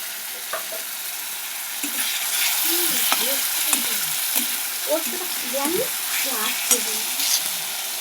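Paneer curry masala sizzles in a pan as spice-rinsing water goes in, giving a steady hiss with scattered crackles and pops, close and moderately loud, with no talking.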